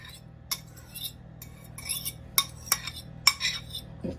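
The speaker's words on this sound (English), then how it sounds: "I'm gonna give it just a slight beat again, just a little bit" Eggs lightly beaten in a bowl with a utensil, a series of short, scattered clinks and taps against the bowl, close and fairly quiet, with no talking.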